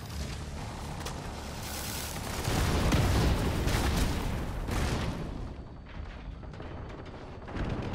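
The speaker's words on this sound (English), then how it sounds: "Cannon." Heavy cannon fire in The Division 2 raid, deep booming blasts rolling together in a loud, dense rumble with mechanical clatter, continuing throughout.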